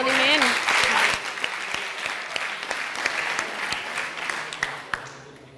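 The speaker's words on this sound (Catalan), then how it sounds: "Un aplaudiment." A studio audience applauds on a Catalan school quiz show, dense clapping that starts loud and gradually thins and fades, with a few sharper claps near the end.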